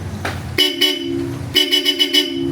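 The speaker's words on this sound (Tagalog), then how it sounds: "Busina, pogi." Bosch Europa horn mounted on a Yamaha NMAX V3 scooter, sounding a short double toot and then a longer pulsing blast, loud and close, with a clear bright tone.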